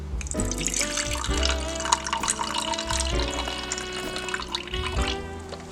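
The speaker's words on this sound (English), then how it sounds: "we're gonna be adding 1/2 cup of the pumpkin juice" Pumpkin juice pouring into cake mix, a continuous close liquid stream with bubbling, gurgling tones that shift in pitch as the level rises, steady and fairly loud with no voices.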